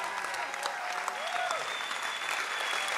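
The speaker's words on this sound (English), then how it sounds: "Give this minister a massive round of applause." A church conference congregation applauds a minister in a sustained, dense round of clapping, with some voices and a faint tonal sweep underneath, steady and moderately loud.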